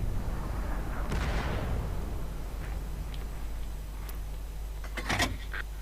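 A tank cannon fires in World of Tanks on Xbox One, a broad blast over a steady low engine rumble, followed later by a sharper crack and rattling mechanical sounds.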